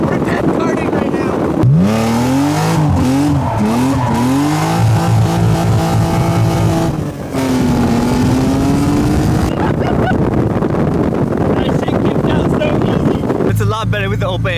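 A small party cart carrying four people drives off, its engine revving up and down in repeated surges amid heavy wind buffeting, with people talking and shouting over it.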